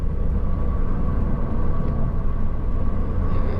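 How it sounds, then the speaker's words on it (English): A 2.0-litre Mazda MX-5 engine growls low and steady at low speed, a continuous deep rumble heard from inside the car without pause. "some engines can sound kind of quite dull, but this has got a lovely growl, rasp to it, even at low speeds"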